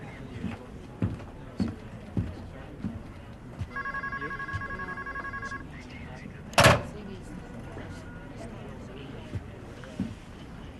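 A telephone rings once with a steady electronic trill lasting about two seconds, mid-distance, amid room noise, thumps and a sharp bang shortly after.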